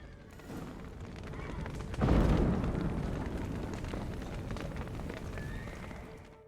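Horses whinny amid a chaotic scene in the video game The Witcher 3: Wild Hunt, a sudden loud burst of rumbling noise at about two seconds followed by sustained clatter and commotion, with a voice shouting briefly.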